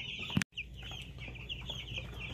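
Young chickens in a brooder on day ten of raising them, giving scattered soft clucks and chirps over a steady low hum, with one brief louder cluck near the start.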